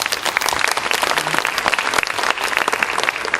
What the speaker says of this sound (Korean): 갈채를 부탁합니다